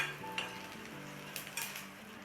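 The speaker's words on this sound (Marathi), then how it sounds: "कांदा पण लाल झालेला आहे आपला आता हा पण साईडला काढू" Onion frying in a pan for a spicy Khandeshi-style sev bhaji, a soft continuous sizzle with a few quiet stirring and utensil scrapes, faint and close.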